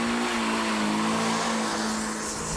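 A Renault Clio on remould tyres, driven hard around a test track and tucked tightly into the bends: a loud, steady engine drone holds one pitch throughout, with a faint tyre hiss and no voices.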